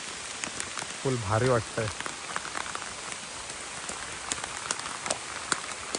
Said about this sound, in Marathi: मस्त पाऊस पडतो आहे.